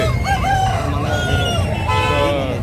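A rooster at a poultry market in Nellore crows loudly and close by, its call rising and wavering over a few seconds, with a low background rumble and faint voices.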